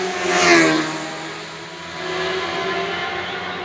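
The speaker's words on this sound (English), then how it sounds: "I think there's only about 10 of these sidecars in the competition." TT racing sidecar screaming past at speed, its engine note swelling loudly as it nears and then fading with a slight pitch drop, followed by the sustained roar of racing engines.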